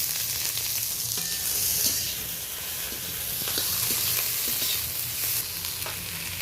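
Onions fry in a pan with chopped shushni greens, making a continuous close sizzle and crackle with gentle swells as the mix is stirred. No one speaks.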